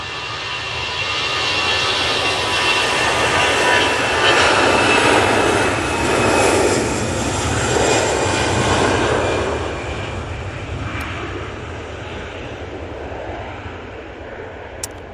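A jet airliner roars as it takes off from Manchester Airport, a loud, broad engine rumble that swells, holds, then slowly fades into the distance, with no talking.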